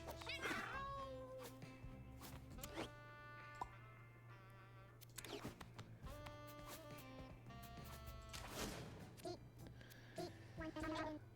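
Cats meow in the video game Mewgenics, several short cartoonish meows and chirps scattered among game clicks and musical tones over a low steady hum, faint and close.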